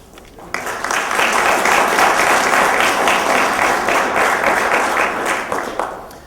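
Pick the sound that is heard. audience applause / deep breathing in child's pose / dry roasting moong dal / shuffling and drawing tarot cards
audience applause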